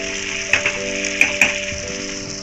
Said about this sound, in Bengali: আলুটা মোটামুটি ভাজা হয়েছে,